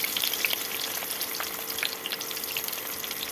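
Ash gourd leaf parcels stuffed with mustard paste fry in hot oil, giving a constant close crackling sizzle dotted with sharp pops, steady for the whole few seconds with no voices.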